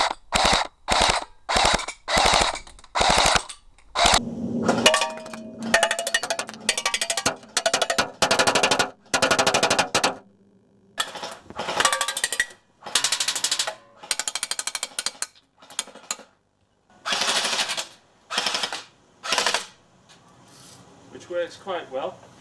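Homemade replica of a PPSh-41 submachine gun, an airsoft build, firing in a run of sharp bursts, first several rapid evenly spaced volleys, then longer clattering strings of shots with mechanical rattle between, loud and close.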